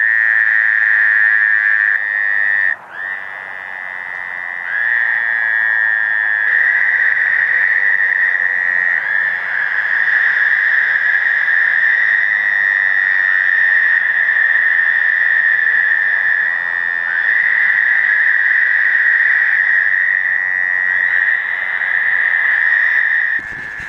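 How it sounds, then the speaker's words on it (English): Fowler's toads call in a continuous, loud chorus at Ridgeside Lake on a breeding night, a sustained buzzing trill that barely breaks, with one short dip near the start. "This is a pretty good picture of a toad calling."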